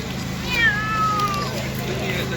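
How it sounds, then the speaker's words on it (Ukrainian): A cat recovered from a bomb-destroyed house in Zaporizhzhia gives a single clear, drawn-out meow, rising then sliding down, close and loud over a steady low rumble of background noise. "Зі зруйнованого будинку надзвичайники врятували і повернули господарям кішку Меган"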